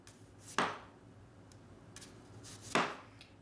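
A knife chopping a red onion on a cutting board gives two sharp, close chops about two seconds apart, with a few faint taps between them in a quiet kitchen.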